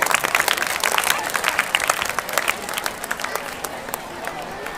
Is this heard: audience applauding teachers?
yes